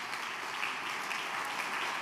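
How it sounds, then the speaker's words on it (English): A church congregation claps at an evening service, a steady, even wash of hand claps held at a moderate, slightly distant level for the whole stretch, with no voices over it. "Why don't we give the man of God with the word of God a hand clap tonight for obeying the Lord."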